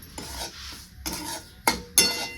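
Semolina being roasted in a pan for potato shira, with a few short scraping strokes of a spoon against the pan, separated by brief pauses and close by.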